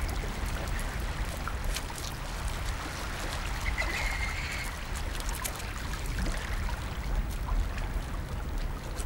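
A boat ride on a river in Chitwan National Park carries a continuous, even wash of moving water with light splashing and faint, scattered chirps in the background, and no talking.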